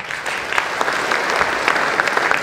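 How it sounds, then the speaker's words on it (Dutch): A crowd gives steady, full applause for a historian at a presentation, dense clapping at even strength from start to finish. "Maak ik voor u een groot applaus voor de historicus Luc Wolters."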